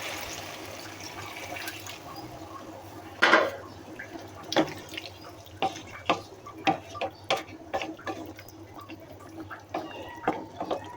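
Water poured into a pot of mutton biryani, a splashing rush followed by a series of irregular clanks and stirring knocks against the pot, fairly close with no talking.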